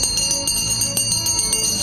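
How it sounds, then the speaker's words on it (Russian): A church bell rings out in celebration at a village event, bright metallic strikes repeating rapidly and evenly, loud and close, with lingering ringing overtones. "В честь этого звучит колокол торжества."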